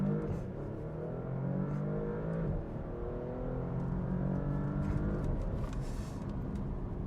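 A Porsche Panamera accelerates hard in first gear from a slow roll, its engine note rising steadily through the rev range with a sustained, loud interior drone and a brief dip as the pitch climbs again.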